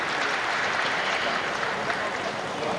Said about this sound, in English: he deserves the applause there